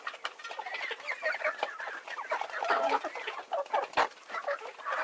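Several chickens cluck steadily in a farmyard, their overlapping calls near and fairly loud without pause, with no voices.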